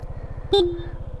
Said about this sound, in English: Nice loud horn.